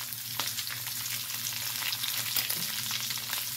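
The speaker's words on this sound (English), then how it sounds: "So we're just gonna pan fry this, and then we're gonna cook the rest of our ingredients" Green beans pan frying give a steady, dense sizzle and crackle that stays continuous from start to finish, with a faint stir near the middle and no voices.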